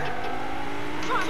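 Truck engine revving in the video game Fortnite, a steady mid-pitched motor drone that rises slightly in the final moments, close and continuous with no talk.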